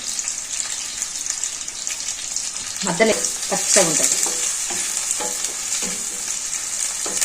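Curry leaves drop into hot oil with chopped onion in a pan and sizzle in a bright, steady hiss, with stirring clinks and scrapes as someone speaks briefly over the cooking.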